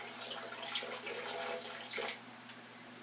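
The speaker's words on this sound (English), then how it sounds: "And then you just add some water." Water streams steadily from a tap into a container, a continuous close splashing rush with a few small drips and clinks toward the end, no voices.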